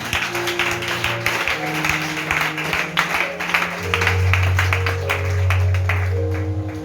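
A church congregation claps over sustained organ or keyboard chords, a fairly loud, steady wash of hands under the music.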